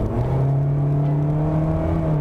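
Steady engine drone of a 2022 Toyota Corolla Cross while driving, a low grainy, rough, diesel-like hum with a faint rise in pitch, continuous and close, with no talking.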